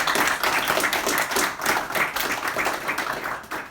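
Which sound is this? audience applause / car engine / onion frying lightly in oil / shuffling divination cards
audience applause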